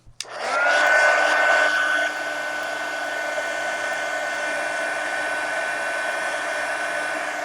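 A hair dryer drying a varnished art journal cover, blowing loud and close after a click on, easing slightly to a steady whine that holds to the end, with no voices.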